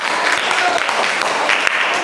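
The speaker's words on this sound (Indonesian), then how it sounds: "Ya, baik, tepuk tangan dulu." A classroom group claps together after a group presentation, steady and fairly loud applause filling the whole brief moment.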